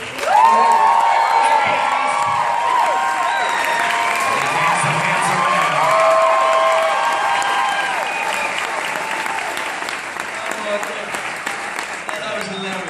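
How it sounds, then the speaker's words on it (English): Applause and cheering from a festival Q&A audience as a film's cast is introduced, a dense sustained roar of clapping with whoops, loud throughout and slowly tapering toward the end, with a voice speaking over it. "You're going to enjoy hearing the different names with the applause."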